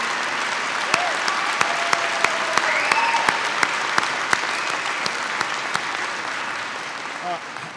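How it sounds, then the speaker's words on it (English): Steady applause from a large town hall audience in Elyria, Ohio, dense clapping throughout with a few sharper claps standing out, and a voice briefly rising over it. "Please give him a round of applause."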